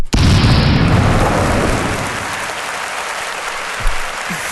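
Loud, dense applause from a large podcast studio audience fills the room, holding steady before easing slightly toward the end.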